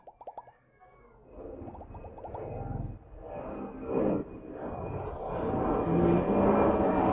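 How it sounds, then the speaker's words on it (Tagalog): An airplane passes overhead, a broad engine roar building gradually from faint to loud over several seconds, with a few short cat-like cries at the start. "May dumaan na eroplano."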